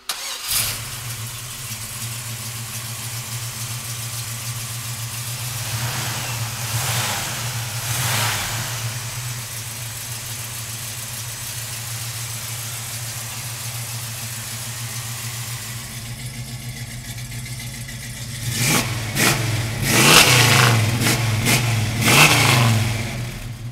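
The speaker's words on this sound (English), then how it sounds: "So come on up and let's fire this big block up now." A 1967 Chevrolet Chevelle with a 454 big-block V8 idles with a steady low rumble, then is revved hard several times near the end, with loud rising bursts over the idle.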